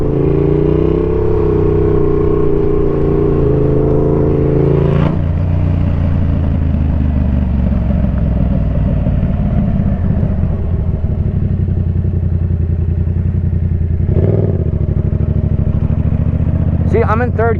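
A motorcycle engine in third gear drones loudly and steadily up close, with a sharp rev surge around the wheelie lift, another mid-ride burst, and engine roar throughout.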